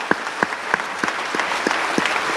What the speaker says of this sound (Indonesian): Tepuk tangan untuk istri saya dulu